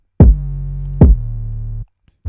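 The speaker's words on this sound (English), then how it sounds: "And then you just slap on the distortion." A heavy, distorted drill 808 bass plays two booming notes, the first short and the second held, loud and gritty with a buzzing edge.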